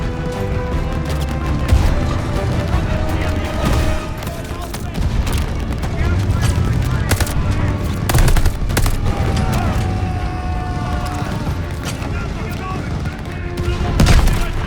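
Rapid gunfire and explosions from the Call of Duty: Vanguard video game, dense bursts of automatic fire with booming impacts throughout, loud and close, with players talking over the shooting.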